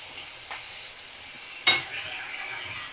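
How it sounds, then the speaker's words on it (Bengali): Prawns fry in a pan over a medium flame for a gourd-and-prawn curry, with a soft steady sizzle under two stirring scrapes, a faint one early and a sharper, louder scrape near the middle. "আমি মিডিয়াম ফ্লেমে রেখেই 2 থেকে 3 মিনিট একটু নাড়াচাড়া করব"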